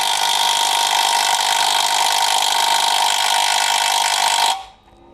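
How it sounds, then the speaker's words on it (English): Steady loud whir of a pneumatic impact wrench working on a stubborn 19 mm engine mount bolt of a FA5 Civic Si, running continuously before cutting off abruptly near the end. "if it's hard to take out with the impact, you can see right there, I'll use a bigger impact"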